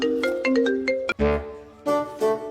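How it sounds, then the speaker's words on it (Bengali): A mobile phone rings with a bright melodic tone, a quick run of close, loud electronic notes that breaks off briefly and then resumes. "আমার একটা ফোন আছে"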